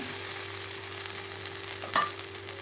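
A paste of ginger, garlic, coconut, onion and dal fries in oil in a village kitchen, giving a soft, steady sizzle with a brief stirring scrape near the end and no voices.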